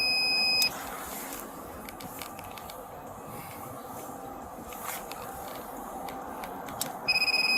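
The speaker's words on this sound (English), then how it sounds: "That's so annoying, the beeping." Short electronic beeps repeat at intervals over a faint background hum, thin and high, coming from equipment in a police radio setting.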